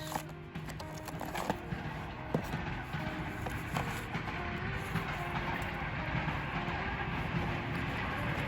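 A train rumbles steadily nearby a garden plot, with low continuous rolling noise and scattered clanks and squeals across the whole stretch.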